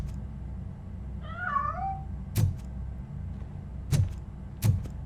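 A cat in Robocop: Rogue City gives one clear, wavering meow, followed by three sharp thuds or clicks spaced over a few seconds over a low, steady ambient hum.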